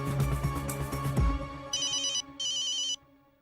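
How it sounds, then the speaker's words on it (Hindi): A phone ringtone chirps in two bursts over a steady background hum, following a short thud. "जेठालाल का फोन?"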